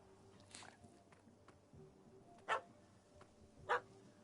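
Two short, sharp dog barks from The Witcher 3, spaced about a second apart, sounding at moderate distance over a quiet game ambience with faint footsteps.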